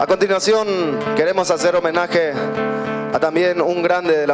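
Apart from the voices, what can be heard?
No distinct noise like a dog, phone or traffic.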